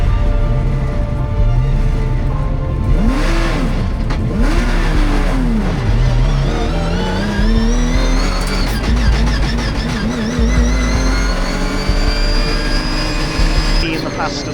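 GT race cars on the Silverstone grid, including a red Porsche on pole beside a Ferrari, roar past with rising and falling engine whines and Doppler sweeps, revving and accelerating, while a commentator talks over the noise.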